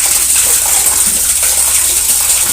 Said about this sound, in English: draining out the main line right into there. Pump is still going on.